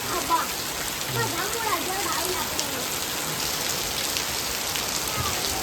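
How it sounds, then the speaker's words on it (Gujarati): A heavy downpour over a village near Botad after sowing, a dense, steady hiss of rain pattering on surfaces close by, with someone talking over it at first. "ભાઈ ભાઈ આવ્યો આવ્યો મિત્રો, વરસાદ આવ્યો."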